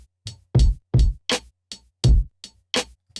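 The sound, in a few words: lo-fi drum beat with snare rim flam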